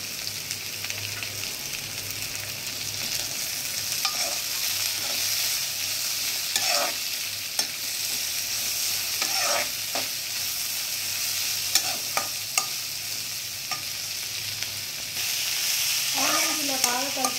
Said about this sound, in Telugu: ఇలా మొత్తం కలుపుకోవాలి ఆనియన్స్ వేసినాక.